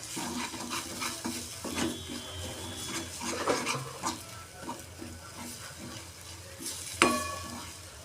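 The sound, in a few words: stirring peas with coconut and almonds in pan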